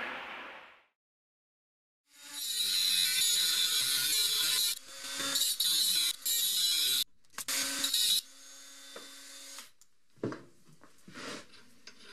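A hand tap cuts threads into stainless steel, giving several close bursts of harsh, ratcheting rasping separated by short pauses, then fading to fainter scrapes.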